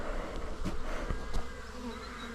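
Honey bees buzz around an open beehive during a spring inspection after winter, a dense, close swarm drone with individual bees whining past, and a few soft knocks and bumps from handling the hive.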